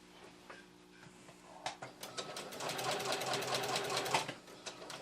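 A sewing machine runs a straight stitch in the ditch on a quilt, producing a quiet, steady mechanical whir with fast ticking needle strokes that grows slightly busier partway through, with no talking.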